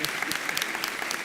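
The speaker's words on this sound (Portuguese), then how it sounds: "vamos aplaudir Jesus pelo Clovinho?" Church congregation applauding during a Quadrangular sermon, a brief, steady wash of clapping from the assembled crowd with a voice over it.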